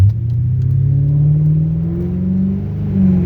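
A tuned Ford Crown Victoria accelerates hard from close by, its engine note climbing steadily in a loud, smooth rising roar with no voices over it.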